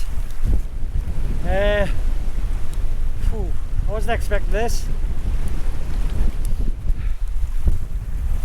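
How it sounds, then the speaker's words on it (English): Strong wind sweeps across a lough in the Mourne Mountains, a loud steady low rumble of gusts battering the microphone, with a person speaking briefly and other voices and calls heard through it. "Can't believe how windy it is."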